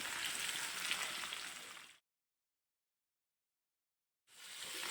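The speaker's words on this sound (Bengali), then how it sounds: "তেজপাতা কেটে ধুয়ে রাখা কচুটা ঢেলে দেবো পরিমাণ মতো লবণ হলুদ" Mankochu taro frying in hot oil in a pan with bay leaf, whole garam masala, salt and turmeric gives a steady hissing sizzle. It stops abruptly into silence partway through, then the sizzle resumes.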